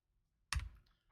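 A single sharp keystroke on a computer keyboard while entering a spreadsheet formula, one crisp click with a brief thud, close to the microphone in an otherwise quiet room.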